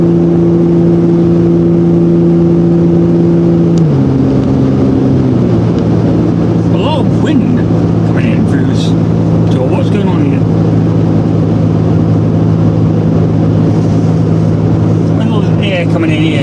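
A loud V6 Mitsubishi Shogun engine drones and hums continuously while accelerating at around 60, dropping in pitch as gears shift, with heavy road and wind noise throughout.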